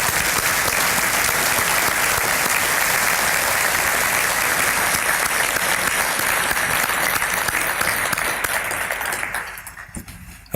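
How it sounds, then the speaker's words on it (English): Loud, sustained applause from a standing audience at a Rooster Booster Breakfast State of the City and County event, honoring fire department staff; thick, close clapping holds steady, then tapers off near the end. "I'd like to give you a round of applause myself."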